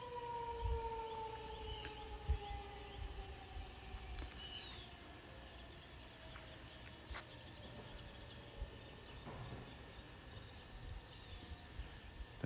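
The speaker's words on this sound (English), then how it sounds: "there's a siren in the background" A faint siren wails far off in North Naples, Florida, its pitch slowly sliding, over quiet background hum and occasional soft clicks.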